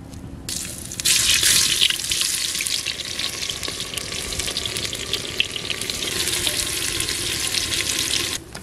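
Mustard oil with bay leaf for crab bhuna bursts into a loud, dense sizzle within the first second and keeps frying steadily close by, with faint stirring and no talk.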